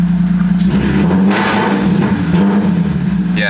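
Totaled Lexus IS350 engine idling just after starting, stuck in limp mode, a loud steady low rumble with slight fluctuations, close up and without speech.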